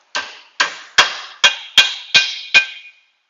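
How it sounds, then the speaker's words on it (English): A small hammer taps the top of a sway bar link on a 2005 Honda with seven sharp metallic strikes at an even pace. Each strike rings briefly, close and loud, and no one speaks. "I'm going to tap it just a little bit with my hammer,"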